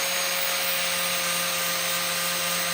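Oscillating multi-tool working back and forth on a Ford Fiesta Mk6 steel roof skin, stripping it to expose spot welds, giving a steady, continuous high-pitched buzzing whine with a constant tone throughout, close and alone.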